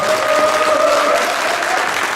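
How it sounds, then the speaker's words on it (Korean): An audience at the Songpa-gu chamber of commerce annual general meeting and year-end evening applauds its new 2012 president and officers, a loud, dense, unbroken round of clapping from many hands. "다시 한번 뜨거운 박수 부탁드리겠습니다."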